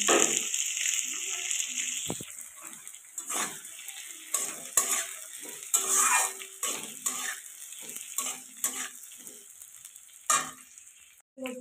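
Fried pointed gourd and potato tipped into a pan of fish curry with drumsticks, close sizzling under repeated clinks and scrapes of a spoon against the pan.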